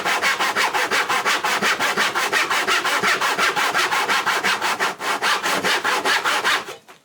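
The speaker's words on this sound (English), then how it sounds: "keep proper sawing technique" Rhythmic strokes of a hand saw cross-cutting wood, close and loud, continue in an even back-and-forth pattern of roughly four strokes per second for almost seven seconds before tapering off.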